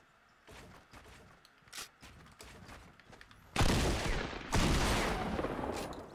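Gunfire in the video game Fortnite, a few faint early pops followed by two loud, sustained bursts of shots close at hand.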